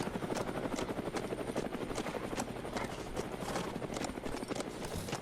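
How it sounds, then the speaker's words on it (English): A helicopter in the video game HumanitZ flies overhead, its steady rapid rotor chop pulsing loudly and continuously throughout without any talk. "that helicopter is going to drop. It's going to be an airdrop"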